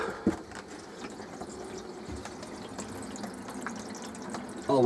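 Water runs steadily from a shower head into the sink of a 1995 Elddis XLi Tornado touring caravan, a soft continuous splashing with a few drips, ending in a louder burst of flow.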